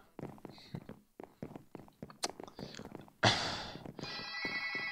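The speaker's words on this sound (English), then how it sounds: "Oh my god. The stupid phone." A telephone rings loudly near the end, two bursts of bright electronic tone cutting in after a stretch of someone talking.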